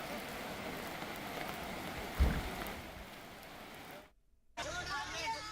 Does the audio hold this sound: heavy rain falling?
yes